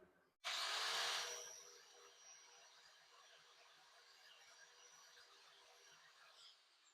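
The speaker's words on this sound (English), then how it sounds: "I've got just a 120 grit flat wheel on here." A 120 grit flat sanding wheel grinds the cut edges of plastic body molding on an 1981-87 Chevrolet C10 pickup, starting with a sudden loud whir that fades into a steady, quieter abrasive hum.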